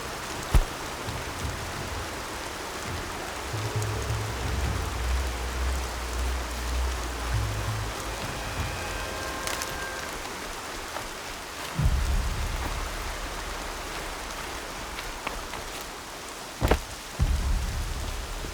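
Steady rain pours in the open-world action game Horizon Zero Dawn, a dense even hiss broken by a few low thuds and sharp knocks, with no voices.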